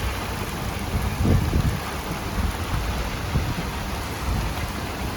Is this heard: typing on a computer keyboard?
no